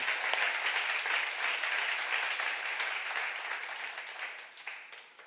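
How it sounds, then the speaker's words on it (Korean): Congregation applauding at a church seminar, a steady dense patter of many hands that holds for several seconds and gradually fades toward the end. "박수"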